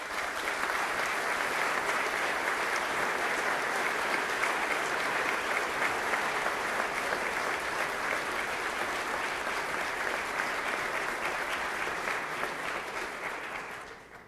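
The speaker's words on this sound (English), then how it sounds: "Representative Pearson's not clapping because it's his birthday." Sustained applause fills the chamber during the Vermont governor's 2012 State of the State address, a steady dense clapping from a large audience that holds at full strength for about fourteen seconds before tapering slightly at the end.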